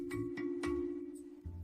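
A phone rings and goes unanswered, sounding as a soft repeating electronic tone with a few brief chime accents, faint and alone.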